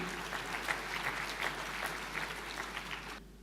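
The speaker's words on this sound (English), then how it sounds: "please put a big round of applause and joining me to welcome Professor Michael Batty" An audience at an Internet Economy Summit keynote on smart cities in Hong Kong applauds steadily to welcome the speaker, a dense even wash of clapping heard at a distance throughout.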